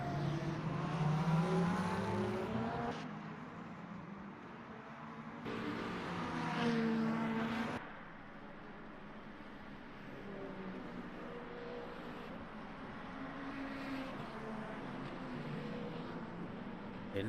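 GT3 race cars at Fuji in a racing game, engines rising and falling as they pass and shift, moderately loud with no talk.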